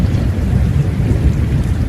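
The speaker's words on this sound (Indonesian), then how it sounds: "di luar suara hujan sesekali disertai guntur" Steady, heavy rain falls with a low, rolling rumble of thunder underneath. The sound is continuous and fairly loud, with no voices.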